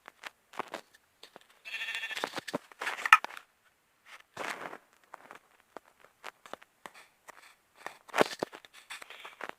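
Sheep in a video game bleat in short scattered calls, quiet and spaced apart, mixed with small clicks and steps.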